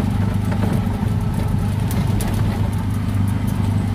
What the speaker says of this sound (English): I'm in a tuk-tuk heading to